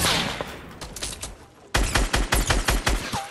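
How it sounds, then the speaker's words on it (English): Rapid gunfire in Fortnite Battle Royale: scattered shots at first, then a loud, close run of heavy, evenly spaced shots firing in quick rhythm for the second half, with no voices. "he's getting shot from right in front of me"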